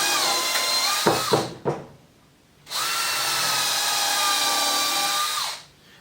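A power drill pre-drilling holes in split-prone wood for a rustic chicken coop barn door, whining in two bursts, the first with short stuttering pulses, the second a steady high run that winds down.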